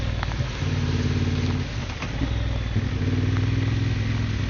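A Honda XL750 Transalp motorcycle descending a mountain in first gear: a steady, loud, close engine drone with low throbbing harmonics and slight pitch shifts, heard alone.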